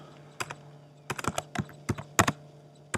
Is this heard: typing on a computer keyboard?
yes